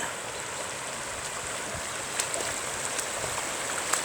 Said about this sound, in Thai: มีแต่น้ำท่วมครับ